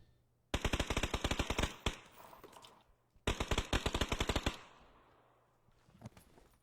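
Automatic gunfire in the video game PUBG comes in two loud, close bursts of rapid shots, each lasting over a second, followed by a faint trailing shot near the end.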